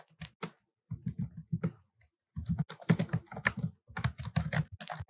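Java code being typed on a computer keyboard, bursts of quick close key clicks separated by short pauses, with no talking.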